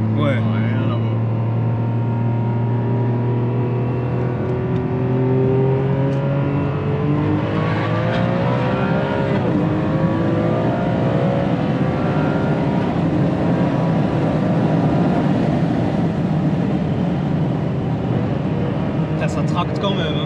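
A Ferrari 599 GTB fitted with shorter springs and an X-pipe exhaust roars loudly and close, its engine note climbing and dropping through repeated accelerations, one continuous powerful run of revving.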